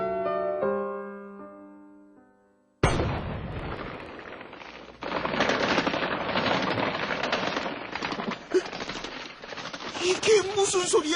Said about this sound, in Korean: 초여름으로 접어들면서 이따금 뒷산에서 총성이 울렸다.